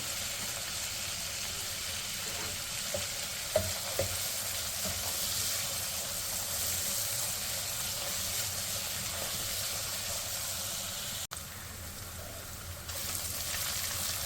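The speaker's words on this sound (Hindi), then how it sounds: "भून लेते हैं इसको 1 से 2 मिनट लहसुन अदरक की पेस्ट को।" Steady sizzling of garlic-ginger paste frying in a hot pan, a continuous crackling hiss with faint stirring taps and no voices.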